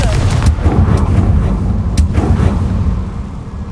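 The Confringo fire spell from Hogwarts Legacy blasts out as a loud, rumbling explosive roar that stays dense and continuous, with a few sharper cracks punching through the heavy low boom.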